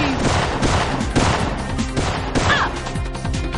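Loud, dense video-game gunfire crackles continuously in rapid bursts, with overlapping shots and impacts filling the whole stretch.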